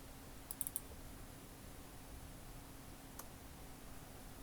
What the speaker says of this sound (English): Double click on the batch file.